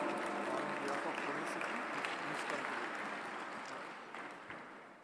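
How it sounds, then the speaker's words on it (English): Faint, distant audience applause welcomes a speaker at an interfaith summit, steady clapping across a large hall that slowly tapers off toward the end. "Please give a round of applause for welcoming Dr. Sanjay Kolte ji, CEO of Smart City Pune."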